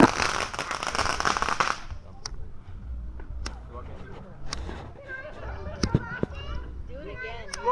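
A Poopy Pooch novelty firework on the Fourth of July sputters and fizzes with a dense crackling burst first, then scattered sharp pops and crackles while children and adults talk and shout nearby.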